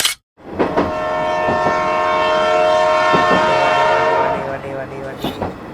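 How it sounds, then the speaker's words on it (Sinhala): Sri Lankan state mail train running from Colombo Fort to Badulla, a loud, close horn blast sustained for several seconds over rumbling carriages, fading toward the end with faint voices. "කොළඹ කොටුව සිට බදුල්ල දක්වා දාවනය වන රාජ්‍ය තැපැල් දුම්රිය"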